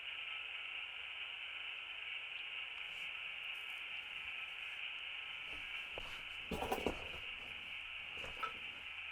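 Steady hissing radio static with a constant high whine fills the air, with a few brief crackling bursts toward the end and no voices.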